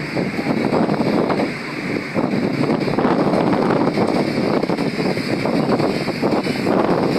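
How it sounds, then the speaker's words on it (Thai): Strong wind sweeps across a riverside viewpoint near the ICONSIAM pier in Thailand, a loud, steady roar with gusty buffeting that lasts the whole stretch, with no voices. "ลมจะแรงหน่อยเด้อท่านผู้ชมเด้อ"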